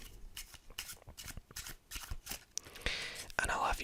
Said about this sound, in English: so I'll give it a shuffle